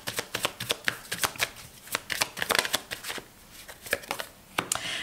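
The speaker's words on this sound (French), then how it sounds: "On va laisser cette carte de ce côté-là et on va rajouter d'autres cartes du tarot." Tarot cards being shuffled and laid out on a table, close, sharp riffling and snapping in repeated quick bursts with soft slaps of cards set down, without talk.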